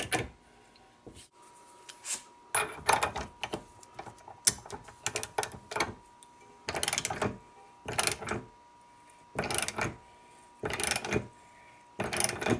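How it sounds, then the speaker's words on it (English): A nut on the back of a lock plug puller is turned to draw the plug out of a lock, giving repeated bursts of close, dry ratcheting clicks separated by short pauses. "we just turn the nut on the back of the puller and begin to tighten that up"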